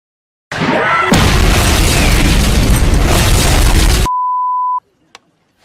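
A loud bomb explosion from the Elf Bowling video game: a sustained, roaring blast that cuts off into a single electronic beep, followed by a faint click.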